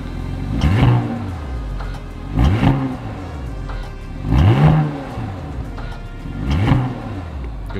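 An Audi SQ5 engine revving with the exhaust flap open, four loud close blips rising and falling at a steady pace over a deep idle rumble.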